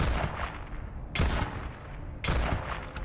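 Gunfire in the video game Starfield: three loud, heavy shots, each with a long rumbling tail and roughly a second apart, with no voices over them.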